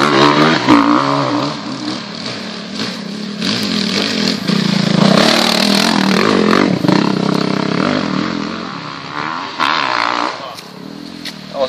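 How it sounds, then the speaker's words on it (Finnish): Several motorcycles ride past in a group on a road during a Finnish enduro-style outing, engines rising and falling in a continuous loud roar with mechanical clatter, close by and overlapping for the whole stretch. "Sieltä tullaan vielä lisää pyörä."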